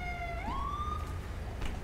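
An ambulance siren in GTA 5 wails nearby, a steady tone sweeping upward into a higher pitch before fading, heard alone without talk.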